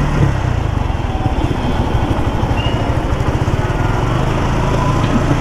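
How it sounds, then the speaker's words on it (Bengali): Motorcycle engine running steadily as the rider heads out from home, a close, loud, even putter with a fast rhythmic pulse and no pauses. "বাসা থেকে বেরোলাম বাইকটা নিয়ে"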